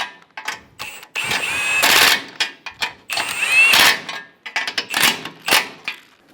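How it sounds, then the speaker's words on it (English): A power tool, likely an impact driver, snugs bolts on a 2005-2015 Toyota Tacoma bumper bracket in repeated short bursts of buzzing and rattling, each trigger pull loud and close, separated by brief pauses. "Snug the bolts down."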